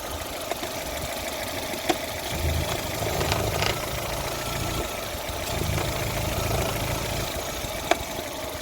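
A 2005 Opel Astra H 1.6 petrol engine idles steadily with a low, even rumble and no talking, broken only by a couple of faint clicks.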